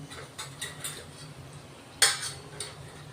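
Metal spoon tapping a pan while dry spices go into a home-style chicken curry. A few light metallic clinks, then one sharper clink near the middle and a softer one after it, close up, with no talking.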